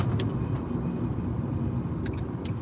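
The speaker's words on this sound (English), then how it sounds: "My car is making an interesting noise." Car interior road noise while driving on a rural farm road, a steady loud low rumble with a few brief high-pitched squeaks or whines standing out near the start and end.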